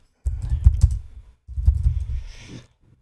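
Two short bursts of close, soft-thocking computer keyboard typing, each lasting about a second with a brief pause between them and no talk.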